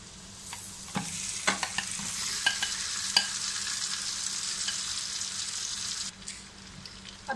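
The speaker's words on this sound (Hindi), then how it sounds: "अब इसमें डाल देंगे मैरिनेटेड चिकन।" Marinated chicken goes into a pan with lightly sautéed garlic for a lemon pepper chicken dish, giving a steady, loud sizzle and frying hiss broken by scraping stirs, close up with no talk.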